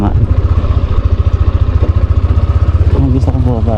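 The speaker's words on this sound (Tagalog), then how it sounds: "May nakita ako nakamotor doon." A motorcycle engine pulses in a fast, steady rhythm close by in the Parang Hills of Dilasag, Aurora, loud and continuous, with voices rising near the end.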